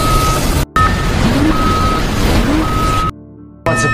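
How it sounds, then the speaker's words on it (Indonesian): A danger warning alarm in a science-fiction film sounds as a steady, high-pitched beeping tone that repeats through most of the clip. It cuts out briefly near the start and again near the end, under a dense, loud background rumble. "Thomas dan para awak pun dikejutkan oleh alarm peringatan bahaya"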